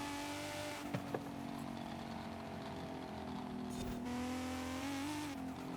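A Honda with an Acura NSX engine swap and no other upgrades drives in a rally racing video game, its engine holding a steady whining drone with small shifts in pitch and a couple of faint knocks.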